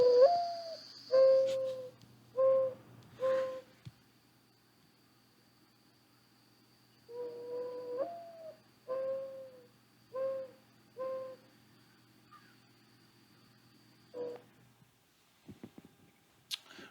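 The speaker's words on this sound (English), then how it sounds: "That is the song of our friend the mourning dove." Mourning dove song in Florida: two separate runs of soft, hollow cooing notes, each a slurred opening coo followed by several even, steady hoots, clear and fairly close, with a quiet pause between phrases and a faint steady hiss behind.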